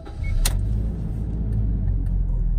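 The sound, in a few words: Toyota Innova 2013 engine idling smoothly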